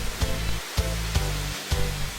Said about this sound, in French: L'eau du bassin va alors venir frapper la roue à auger.